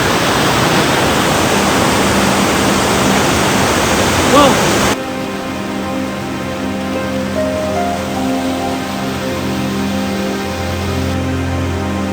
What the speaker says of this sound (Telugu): water falls